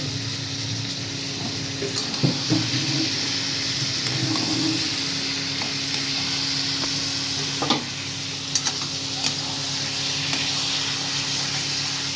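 Mutton fat sizzles steadily in a hot pan while a spoon stirs through it, giving a continuous broadband frying hiss broken by occasional scrapes and clicks of the utensil, close up, with no talking.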